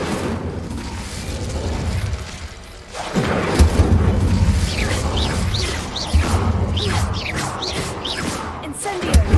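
A fire spell being cast in the video game Hogwarts Legacy on hard difficulty, with bursts of magical whooshing and crackling mixed with game effects, repeated several times over a continuous loud backdrop.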